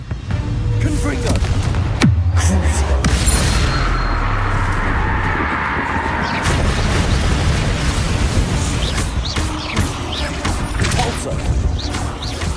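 A Confringo fire spell fires and explodes in Hogwarts Legacy, a sharp blast followed by a sustained fiery roar and crackling combat noise lasting several seconds.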